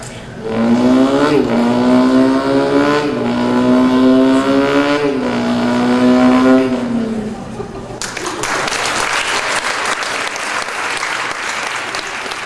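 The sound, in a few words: voice imitating a Ford Escort rally car engine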